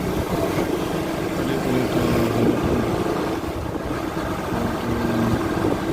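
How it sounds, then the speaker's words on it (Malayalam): A tourist service boat on the Arabian Sea off the Kerala coast runs with a steady, loud engine drone and broad rumble that holds for the whole stretch, with wind and water noise mixed in. "ബോട്ട് സർവീസും ഉണ്ട് ഇവിടെ"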